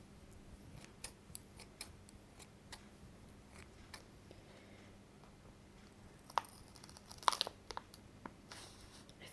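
Soft crinkling and sharp tearing of a plastic Lego Disney minifigure packet being opened, scattered quiet crackles and ticks with a louder burst of rustling near the end, no voices.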